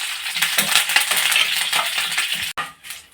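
Curry leaves and dried red chillies frying in hot oil on a low flame for a cucumber dosa, giving a steady close crackling sizzle with scattered spatters, then a brief drop and softer sizzle at the end.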